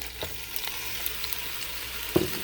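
Onion fries quietly in chicken fat for chicken soup, a soft steady sizzle with a few faint scrapes and one sharper stir or clink near the end.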